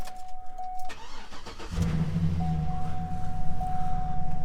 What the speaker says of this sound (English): Let's see if it starts up.